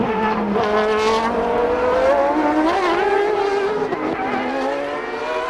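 A race car at Mondello Park howls past at high revs in a 2001 FIA Sports Car Championship round, loud and continuous, with the engine note rising and dipping through gear changes.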